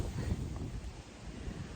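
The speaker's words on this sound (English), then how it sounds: "it's getting super windy" Strong gusts of wind buffet an outdoor garden, producing a steady low rumble of wind noise against the microphone with faint rustling, fairly quiet and continuous with no talking.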